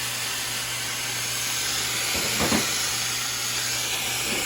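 A steam boiler with a faulty pressure control hisses steadily, a continuous broad rush over a low mechanical hum, with a brief swell of louder hissing around the middle and no talking.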